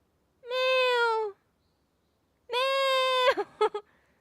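A cat meows and wails, close and loud. Two drawn-out cries are separated by a short silence, and the second breaks into a few quick chirping yowls at the end.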